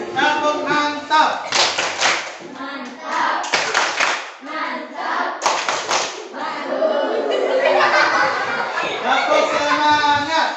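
Pupils in a classroom repeat a group clapping routine, clusters of loud claps interleaved with chanting and chatter, ending in a busier stretch of voices.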